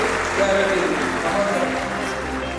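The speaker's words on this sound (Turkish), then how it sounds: "Ve yine bu alkışlarla sahneye Gafar İmanverdiyevi" An audience applauds steadily as a guest speaker, an economist and financial markets trader, comes onto the stage, a dense continuous wash of clapping heard from within the hall.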